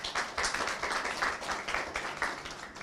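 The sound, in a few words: audience applause for the lecturer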